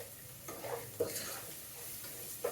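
Onions sizzle and fry in a pan for a red pumpkin pulusu, with a spoon stirring and scraping now and then, close and steady at moderate level.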